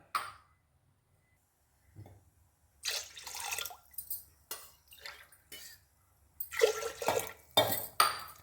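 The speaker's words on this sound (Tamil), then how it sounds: "2 டம்ளர் தண்ணி ஊற்ற போகிறேன்." Water splashes and pours in several short bursts from a tumbler into a metal pot already holding milk, with quiet pauses between pours and a few light clinks.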